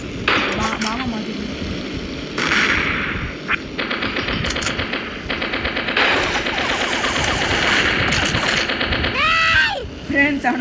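Rapid bursts of gunfire ring out in the mobile game Mini Militia, with rattling automatic volleys, sharp single shots and brief gaps, while someone talks over the action.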